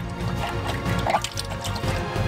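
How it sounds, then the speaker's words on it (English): Cream being poured from containers into another large container while making a giant coconut-almond dessert, a continuous close liquid gurgle and splash with small drips throughout. "Now let's turn to the cream. Unscrew the lids and pour all 7 liters into another container."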